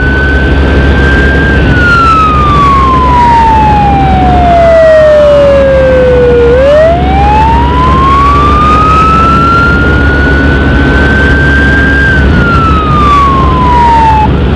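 An ambulance siren from a community health clinic wails loud and close, its pitch sliding slowly down and then back up in long sweeping cycles over steady road and engine rumble.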